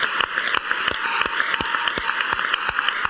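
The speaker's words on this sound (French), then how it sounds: "Applaudissements." Studio audience applauding on a French TV entertainment show, dense steady clapping with sharp individual claps standing out, loud and close, filling the whole stretch without talk.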